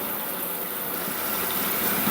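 Strong water spray gushing from a faucet or sprayer head, a steady loud hiss that runs continuously without a break.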